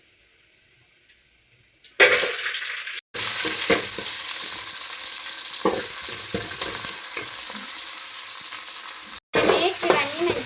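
Chopped onions, green chillies and curry leaves with cumin hit hot oil in a pan, breaking into a loud, close sizzle that keeps hissing steadily, with brief clatters of stirring and one short break.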